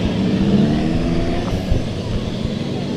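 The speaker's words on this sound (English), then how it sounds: "They're already slipping and sliding on the pace laps." Race cars in an enduro event run pace laps at Bakersfield Speedway, with a continuous loud engine drone and rumble that holds steady throughout, no clear talk.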